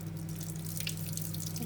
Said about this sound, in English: It's just running that under cold water just in case.